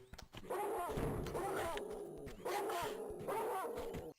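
A dog in the video game Tomb Raider 2 Remastered gives two drawn-out, whining barks or yelps, fairly close, separated by a short gap.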